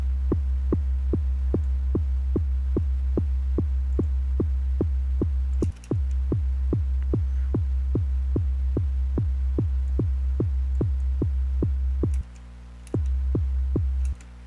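A synthesized one-note drum loop with drive added, a steady train of punchy, distorted low thumps repeating evenly at a quick tempo, broken by two short pauses.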